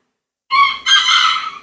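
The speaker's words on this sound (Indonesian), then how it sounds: "Iya, saya punya ayam. Suaranya keras ya." A pet rooster crows loudly and close by, a single strong cock-a-doodle-doo rising in two bursts after a moment of silence, with no talk over it.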